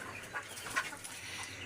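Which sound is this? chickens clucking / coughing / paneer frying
chickens clucking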